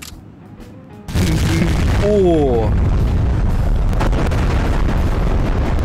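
A loud bomb blast from a mod in the video game Garry's Mod erupts after a brief quiet, then a sustained roaring rumble carries on. A voice exclaims and others talk over the noise.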